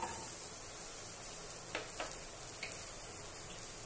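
Chopped onions sauté in hot oil with a faint, steady sizzle, broken by a few soft scrapes of stirring.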